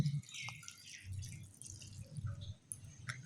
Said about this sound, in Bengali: এবার তিন থেকে চারবার কপিটা পরিষ্কার করে ধুয়ে নেব